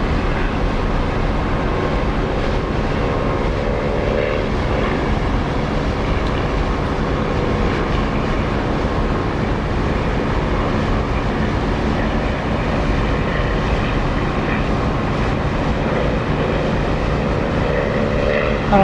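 An aircraft taking off in the DCS flight simulator gives a loud, unbroken engine roar that stays steady and close for nearly twenty seconds with no talk.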